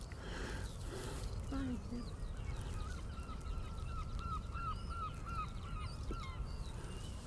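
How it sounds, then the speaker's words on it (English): Herring gulls call repeatedly in the background around Whitby Abbey, a series of faint honking cries over a low outdoor rumble, with people talking nearby. "And of course you can hear the herring gulls in the background."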